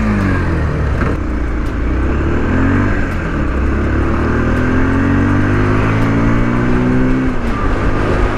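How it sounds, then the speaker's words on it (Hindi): A Bajaj Pulsar 150 motorcycle accelerates from an initial pickup, its exhaust note rising steadily in pitch through the gears, loud and close throughout with no talk over it. "एग्जॉस्ट नोट आप सुन सकते हो,"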